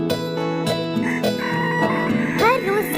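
A rooster lets out a loud, nearby cock-a-doodle-doo, and the crow ends in a rising, wavering call, with clucking fowl around it.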